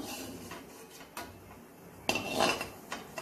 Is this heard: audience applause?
no